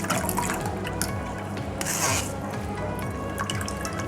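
Whey drips from lemon-curdled milk straining in a kitchen sieve, a close, irregular patter of small wet drops that continues steadily with no talking.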